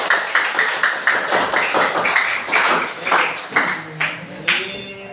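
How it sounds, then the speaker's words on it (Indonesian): A classroom group claps for the first student group after their presentation, a patter of hand claps running steadily for several seconds and then thinning out into a few scattered claps. "Tepuk tangan untuk kelompok 1."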